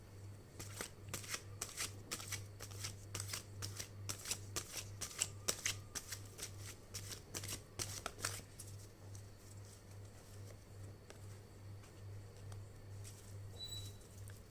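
Tarot cards shuffled by hand in a quiet room, a rapid run of crisp riffling slaps for several seconds that thins into softer, sparser card rustles, close and fairly faint, with no talking.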